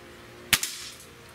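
.30 calibre airgun, a Gamo Swarm Magnum or Hatsan 135 air rifle, fires a single sharp close crack with a brief follow-up thud, then quiet.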